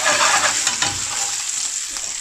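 Finely chopped onion fries in a pan for a British Indian restaurant-style chana masala, giving a steady, close sizzle with scraping stirring strokes that are loudest at the start and ease slightly, with no voices.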